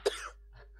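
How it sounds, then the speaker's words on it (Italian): One short, close cough, fairly quiet, followed by near silence and a faint low hum. "Scusa, mi viene da tossire."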